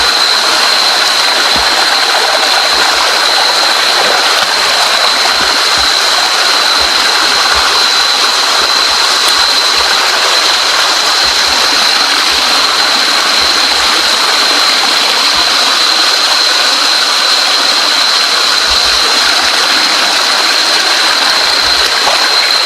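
A stream flows steadily and loudly outdoors, a constant rushing wash of water with no pauses and no voices over it.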